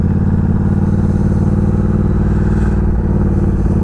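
A Triumph Speed Twin motorcycle rides over gravel, its twin engine droning loud and steady up close with a continuous rumble and rattle throughout, no voices.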